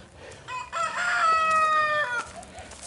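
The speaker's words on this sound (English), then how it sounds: "Some chickens right there." A rooster crows loudly in a long drawn-out call, with chickens clucking nearby, on a street in El Tunco, El Salvador, with light outdoor background noise.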